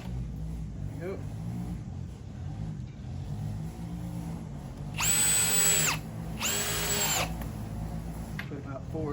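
A power drill drives screws into a brace on an RC crawler course, two short loud whirring bursts close by, with a voice speaking before and after.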